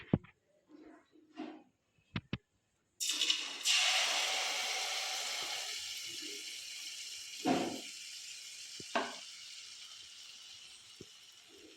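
Mangalorean-style crispy malpuri batter hitting hot oil bursts into a sudden loud, sustained sizzle that fills the rest of the clip. A few soft clicks and knocks come before it, with occasional bubbling swells later.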